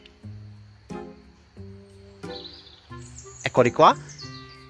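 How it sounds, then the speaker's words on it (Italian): Small songbirds chirp faintly at dusk outdoors near a tent camp, brief tweets rising near the end while someone speaks in the foreground. "si sentono ancora gli uccellini."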